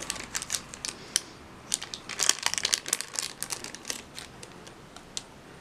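Inkjet photo paper slowly peeled off a wax-coated candle, giving a steady crinkly crackle with sharp little ticks and snaps throughout, close up and with nobody talking.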